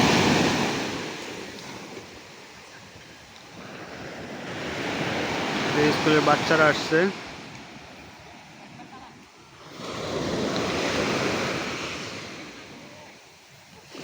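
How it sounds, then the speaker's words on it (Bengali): Ocean surf rolls in at Batu Ferringhi beach on Penang island, Malaysia, with loud broad washes of breaking waves rising and fading, plus wind noise; someone talks briefly over the surf midway. "পানি দেখেন কত সুন্দর আওয়াজ কত ভয়ঙ্কর আওয়াজ"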